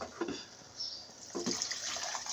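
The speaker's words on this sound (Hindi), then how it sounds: "जितना आपको शोरबा पसंद हो आपको उस हिसाब से पानी डालना है।" Water poured into a dhaba-style chickpea curry in a home kitchen, a running splash that comes in two bursts with a hissing stream between them, close and clear with no voices.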